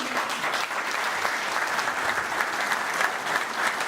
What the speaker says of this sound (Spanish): Merecidos los aplausos.